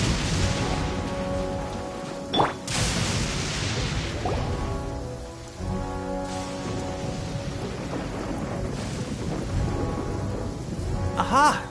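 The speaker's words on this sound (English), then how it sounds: "Oh, I don't like the rain." Rain falls steadily in Inazuma in the video game Genshin Impact, with thunder cracking and rumbling loudly over it and game music and effects layered underneath.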